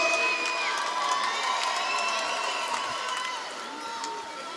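A crowd in a boxing arena at Mohegan Sun cheers and claps after a fight, a broad, steady roar of many voices that fades slightly toward the end.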